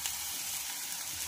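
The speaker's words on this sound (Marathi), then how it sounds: "आणि छान असं आपल्याला याला फ्राय करून घ्यायचं आहे" Prawns frying with golden onion in plenty of oil in a pan, a faint, steady hiss of sizzling with no talk.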